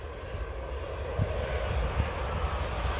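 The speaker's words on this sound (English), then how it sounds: "Oh, it's a Boeing 737, guys. The legendary. Yeah, it is 737 Transavia." Transavia Boeing 737-800 landing at Orly airport, a steady broad engine roar with low rumble, continuous and moderately loud throughout with a couple of brief low thumps.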